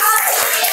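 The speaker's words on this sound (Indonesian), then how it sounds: "Tepuk tangan untuk kelompok" Applause for group 1 after its presentation: a brief, dense burst of many hands clapping together, steady and fairly loud, with no voices.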